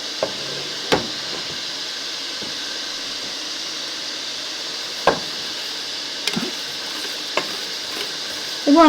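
A pot of cooked-down garden huckleberries with nutmeg and lemon juice is stirred over heat: a low, steady hiss with a few distinct spoon knocks against the pot, spaced irregularly and fairly quiet.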